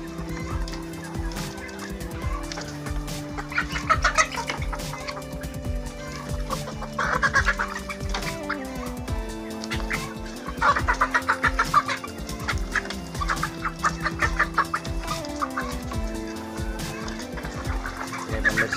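Laying hens clucking inside a coop during ILT vaccination: steady layered clucks and squawks from many birds, rising in a few busier bursts, fairly close throughout with only a hint of a voice.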